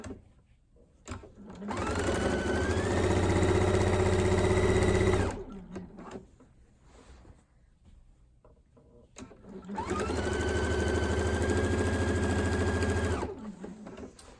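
A sewing machine runs in two sustained bursts of several seconds each while back stitching quilt binding, with a short quiet pause between them; the motor hum is steady and close, and no one talks.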